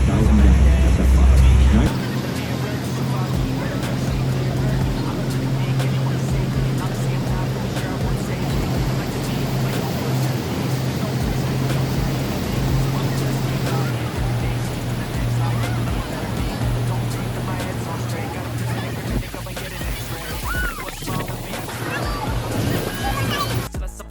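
Water rushes and sloshes steadily at Niagara Falls from aboard a tour boat, a dense wash of spray and churning water with engine rumble, and a voice talks over it.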